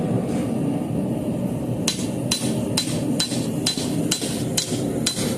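Hammer blows ring out on metal stock resting on an anvil while forging a dinner bell, about eight sharp, evenly spaced strikes over a steady background hum, with no talking.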